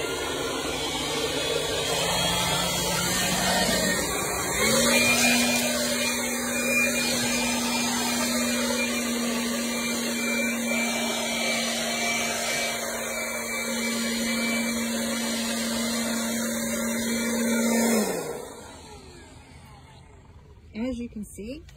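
A lightweight rechargeable battery-powered tool clearing a patio, with a loud steady motor whine that shifts speed, runs for about fifteen seconds and then stops. Some speech is heard over it.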